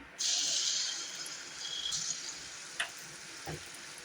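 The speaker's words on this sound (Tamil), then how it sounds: "இப்போ நம்ம அப்பம் சுடலாம்" Appam batter cooking in a hot pan, a close hissing sizzle that swells at the start then settles into a softer steady fry, with a couple of faint ticks and a light clink toward the end.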